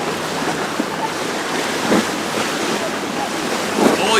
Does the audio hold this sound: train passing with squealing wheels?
no